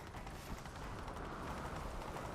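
Steady rumbling hoofbeats of a galloping horse in the video game The Witcher 3, dense and continuous, mixed with a broad noisy wash like wind or motion.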